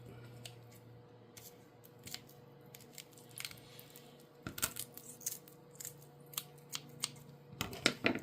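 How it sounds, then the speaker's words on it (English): Dull, uneven snips and crunches of blunt kitchen scissors cutting through chicken wings, with scattered clicks and a low steady hum beneath. "My scissors aren't very sharp."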